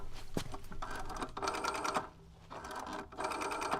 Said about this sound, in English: That's a Rolodex phone.